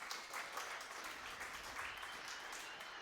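Audience applause during a talk, a faint, distant, continuous spatter of clapping from a crowd that holds evenly for three seconds.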